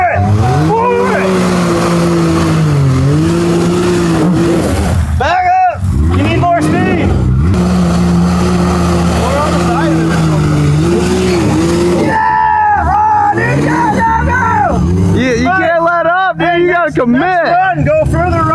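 Engine screaming at full throttle on a drag course, a loud close roar whose pitch climbs and falls through gear changes, with tire squeal, under excited shouting voices.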